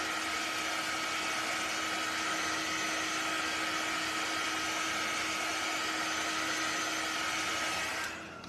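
Blower drying a decoupage napkin on a vintage truck cutout: a steady, loud, whining airflow hum runs continuously for about eight seconds, then cuts off near the end.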